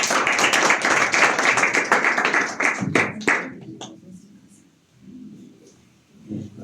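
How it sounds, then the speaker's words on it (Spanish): An audience claps for about three seconds, a dense burst of applause that thins into a few last claps and then fades to quiet room tone with faint shuffling. "le recibo un fuerte aplauso también"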